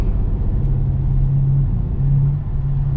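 A Ford Fiesta driving on a snowy, icy morning, its engine a loud, steady low rumble heard from close by with faint tonal hums, no voices.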